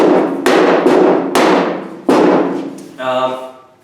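Five sharp, ringing hammer strikes on the sheet metal rear panel of a 1943 Willys MB in an uneven rhythm, each decaying quickly, followed by a brief spoken sound at the end.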